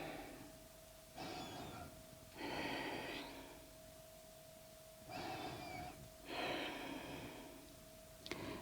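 Four slow, deep breaths during a traditional hatha yoga session, each inhale and exhale drawn out for a second or two with quiet gaps between, heard close and soft over a faint steady background hum.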